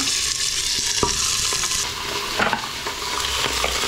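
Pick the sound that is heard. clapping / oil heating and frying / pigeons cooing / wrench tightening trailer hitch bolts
oil heating and frying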